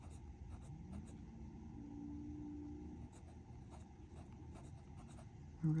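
A Sailor Pro Gear fountain pen with a fine nib scratches softly across paper in short strokes, faint and close, over a low rumble of passing traffic.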